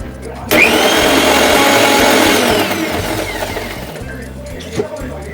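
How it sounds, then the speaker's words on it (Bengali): A blender whirs loudly as it blends cold coffee with sugar and water, the motor jumping on abruptly, roaring for about two seconds, then winding down and fading. "এইবারে আমি এটা একটু একবার ব্লেন্ড করে নেব।"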